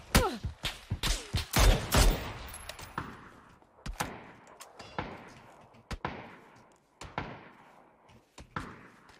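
Gunfire in the battle royale PUBG: a burst of rapid shots up front, then single sharp cracks spaced out over several seconds, each with a short echoing tail, no talking.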